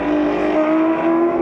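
A Ferrari 250 SWB racing car roars loudly past on the track at Sonoma Raceway, a brief sustained engine note at full throttle.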